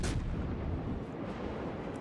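USS New Orleans cruiser guns in World of Warships fire shells: one sharp, loud blast at the start, then a low rumbling boom that rolls on and fades.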